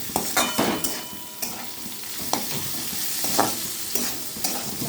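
Capsicum and onion stir-fry in a hot pan for poha, a steady sizzle broken by repeated scraping and stirring strokes at close range, with no voices.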